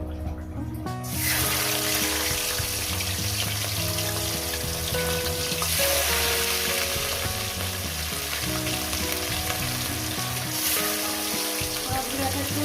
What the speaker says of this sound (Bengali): তেলটা আমার গরম হয়ে গেছে এবার মাছগুলো এক এক করে ছেড়ে দেবো মাছগুলো আমি ভেজে নেব